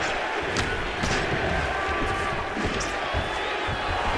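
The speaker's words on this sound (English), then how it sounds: "Oh, he slams him to the ground." A fighter is slammed to the mat in the UFC 4 video game, a few dull thuds under a continuous crowd roar, with voices present.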